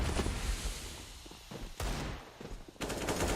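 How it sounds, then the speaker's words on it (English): Sharp broadband bursts of flashbang grenades in CS:GO, played on the Mirage map in a competitive match, break through dense in-game gunfire and clatter, with loud pops near 1.8 and 2.8 seconds. "Out the window, the flashbangs go."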